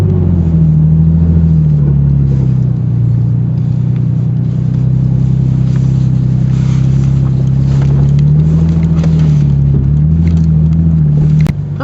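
A Ford Ranger truck with a 4-liter V6 and a 5-speed manual, badly in need of a muffler, drives along with a loud, steady, throaty engine rumble that rises and falls slightly in pitch throughout.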